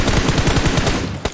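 A fast burst of automatic gunfire in a video game rattles loudly and evenly for about a second, then cuts off and is followed by one last sharp shot.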